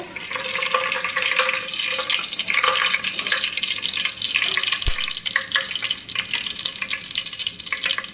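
Onions frying in hot oil in a pot, a continuous dense hiss and sizzle that holds steady for the whole stretch, with one faint knock partway through and no talking.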